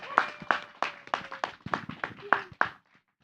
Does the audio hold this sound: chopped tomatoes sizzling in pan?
no